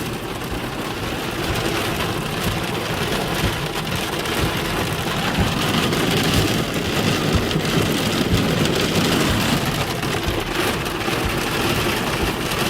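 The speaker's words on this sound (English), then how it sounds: "It's still hailing for frig's sake." Heavy rain and hail pour down in an intense Southern Alberta thunderstorm, a dense, loud, unbroken hiss and patter throughout, with low thunder rumbling beneath and no voices.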